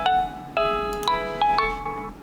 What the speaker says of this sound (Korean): 그럼 바로 전화 연결하도록 하겠습니다.